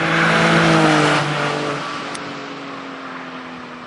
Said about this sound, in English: Third gear, high speed acceleration.